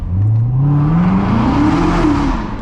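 A 700-horsepower Corvette's engine revs hard and climbs steadily in pitch as it accelerates at full throttle with traction control off, passing through an underpass, loud and close, with no one talking.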